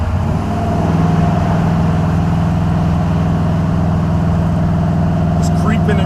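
A Buick 455 Stage-1 V8 in a Regal-T holds a steady 2,500 RPM, a continuous even drone that stays loud and close for the whole stretch, with a brief faint clink near the end.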